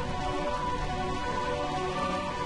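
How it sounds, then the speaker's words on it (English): Steady rain falls over Burmecia in Final Fantasy IX, a continuous dense hiss that stays even throughout, with soft sustained musical tones faintly underneath. "Burmecia, realm of eternal rain."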